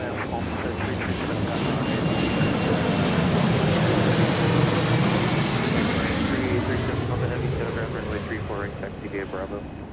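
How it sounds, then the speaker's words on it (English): An Alaska Airlines Embraer 175 run by Horizon arrives from Boise, its engine roar building to a loud, steady pass with a sweeping pitch shift, then easing off, under a voice talking throughout. "This is Alaska 2235 operating under the Alaska banner as a Horizon aircraft."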